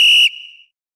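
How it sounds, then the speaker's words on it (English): A single sharp, high whistle blast sounds briefly and loud, then leaves a short fading ring before silence. "I think the whistle's going to work."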